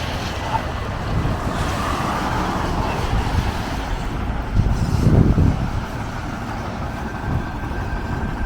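Wind gusting outdoors on a chilly city street in Kyiv, a steady low rumble of buffeting across the microphone that swells into a louder gust near the middle, with no voices.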